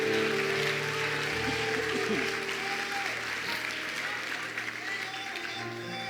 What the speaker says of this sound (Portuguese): Alguém pode aplaudir a Jesus aqui?